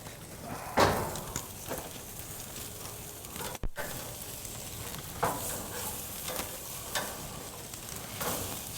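Tomahawk ribeye steak searing on a gas grill, a constant close sizzle and hiss with occasional scraping and knocking sounds, and one brief sharp dropout midway.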